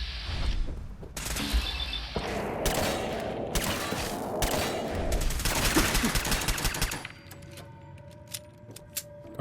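Rapid pistol gunfire in Fallout 4, a dense string of loud shots with mechanical clatter and combat effects, ending in a quieter stretch of sharp isolated impacts.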